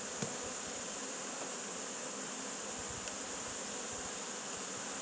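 Honeybees droning steadily inside an open hive as frames are spread and fixed in place, a dense, even buzz held close and constant with faint taps now and then, and no voices.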